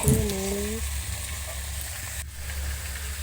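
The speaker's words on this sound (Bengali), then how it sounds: "এবার পুঁই ডাঁটাটাকে ভালো করে ভেজে" Malabar spinach stems fry in a pan with a steady close sizzle and hiss that runs throughout, and a brief voice-like tone rises over the first moment.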